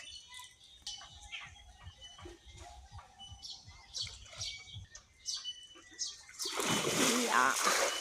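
Water splashes in a pond as a man hauls in a fishing net, with a louder burst of splashing near the end, while people talk and birds chirp in the background.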